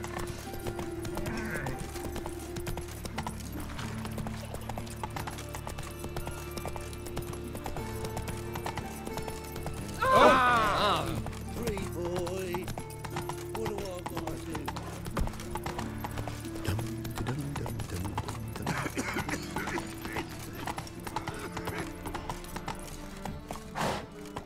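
Roach, Geralt's horse in The Witcher 3: Wild Hunt, clip-clops along steadily under a low game soundscape, letting out one loud whinny partway through; faint speech surfaces now and then.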